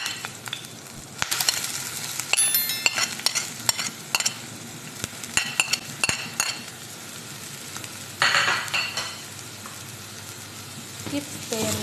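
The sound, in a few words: chopped garlic and onion frying in oil, stirred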